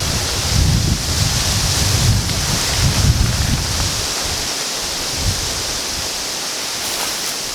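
Strong wind rushes outdoors in the wilderness ahead of an approaching rainstorm, a loud, continuous roar buffeting the microphone, gusting hardest at first before settling into a steady blow.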